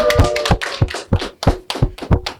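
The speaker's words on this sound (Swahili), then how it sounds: "mumpige kwa makofi" A women's day gathering in Tanzania where an audience claps for actress Kajala, giving a series of sharp, uneven claps and taps in bursts, fairly close and loud, with no talking.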